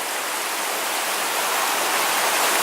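Steady, dense hiss of rain mixed with hail falling in a Seattle spring storm, continuous and fairly loud throughout with no voices.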